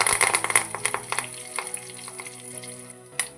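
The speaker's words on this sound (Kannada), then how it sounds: "ಕರಿಬೇವಿನ ಹಾಕ್ತಾರೆ." Curry leaves crackling in hot oil, a burst of sharp spitting pops at the start settling into a softer continuous sizzle, with one more pop near the end; close and fairly loud, no talk.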